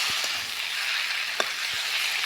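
Potatoes frying with spices in a pan for a rohu fish dish with tomato, a steady close sizzle with a few faint clicks of stirring, no voices.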